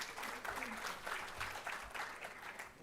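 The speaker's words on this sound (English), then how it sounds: "let's give a warm round of applause" Audience applause at a public event for International Day for Universal Access to Information, a steady wash of clapping hands sustained at an even level for the whole stretch, fairly distant and alone.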